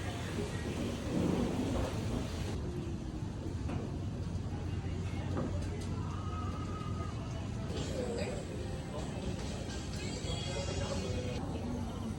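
Rain falls steadily outside a coffee shop with low rumbles of thunder, making a constant broad wash of sound while people talk nearby.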